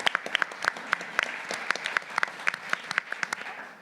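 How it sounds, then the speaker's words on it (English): Audience applause at a business breakfast event welcoming a new team member, a steady patter of many hands with distinct sharper claps standing out, moderately distant and fairly faint throughout. "So if you give him one more big round of applause for joining the BPC team."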